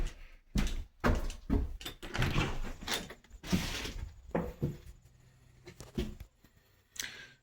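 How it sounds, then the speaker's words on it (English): A side entry door of a house being worked open and shut, giving a run of loud thunks, knocks and rattles at uneven intervals, close by, with brief quieter gaps between. "Side entry door."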